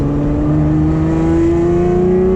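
A Lamborghini on the Nürburgring accelerates flat out, engine note rising steadily in pitch as it pulls hard, loud and close from inside the car, with no talking.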